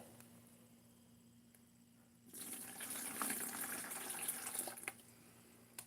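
Water pours suddenly into a gold prospecting slurry mix outdoors in the Black Hills, a loud gushing splash after a quiet start that runs for a few seconds and then eases off.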